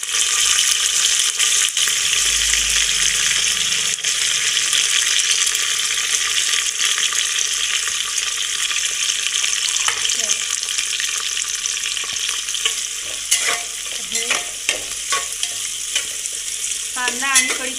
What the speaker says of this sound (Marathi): कांदा आणि कढीपत्ता आता छान नरम होईपर्यंत, सोनेरी रंगावर येईपर्यंत परतून घ्यायचं.